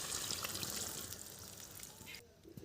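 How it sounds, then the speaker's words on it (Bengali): Spice-flecked rinse water from a plate pours into a wok of snakehead fish steaming in ground spice paste, a soft, brief trickle and splash at close range. "থালা ধুয়ে আমি জলটা দিয়ে দেব।"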